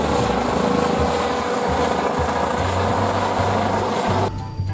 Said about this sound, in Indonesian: Wih, ini ada helikopter,